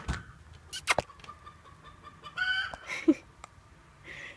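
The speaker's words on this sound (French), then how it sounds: "Et les poules de ma mère qui passent." Domestic hens wander past outdoors, giving scattered clucks and a few sharp calls amid clicks and faint background noise, fairly quiet and irregular.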